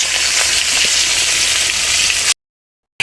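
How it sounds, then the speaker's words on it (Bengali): Steady, loud sizzling and crackling of fish frying in hot oil, continuous for a couple of seconds before cutting out briefly. "মাছগুলোকে সুন্দর করে ভেজে শুরু হলো মাছ ভাজি"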